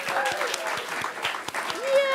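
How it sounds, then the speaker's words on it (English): Audience at a chef's cake showcase giving a brief round of applause, moderate steady clapping with voices and a cheer over it. "round of applause"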